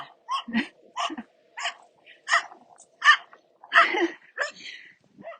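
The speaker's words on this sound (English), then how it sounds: "So there you get a little bit of dog barking going on." A dog barks repeatedly in short, fairly close yips and woofs, spaced about half a second apart with brief pauses.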